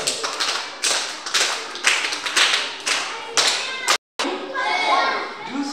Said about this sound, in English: Clap for yourself, all of you.